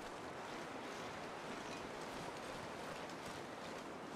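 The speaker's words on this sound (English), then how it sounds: "it's a little bit windy still" Steady wind gusting across open snow just after a blizzard in the survival game The Long Dark, a constant faint rushing hiss with no voices.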